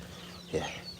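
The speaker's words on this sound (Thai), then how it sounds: "นี่ก็คือบริเวณเลี้ยงไก่เลี้ยงไก่บ้าน" Domestic chickens in a backyard pen of about a hundred birds, with roosters and hens, give a soft short cluck against steady low background noise.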